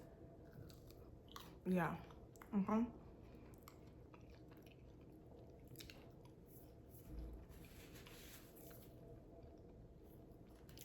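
Close, wet chewing of Chick-fil-A food: a few squishy bites clustered early, then faint mouth sounds under low background noise, with a brief spoken word.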